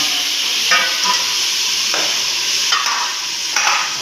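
Tomatoes meet a hot tempering of cumin, whole spices, asafoetida and garam masala, giving a continuous close sizzle. Several brief scraping stirs of a spoon against the pan sound over it.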